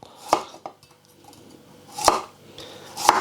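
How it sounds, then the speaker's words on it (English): A knife slices a carrot finely on a board, making three or four distinct, spaced-out taps against quiet surroundings. "I've got a carrot which I'm going to slice as finely as possible."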